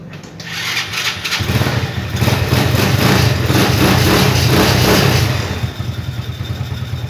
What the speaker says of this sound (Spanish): Pueden apreciar que la moto está funcionando correctamente con arrancador.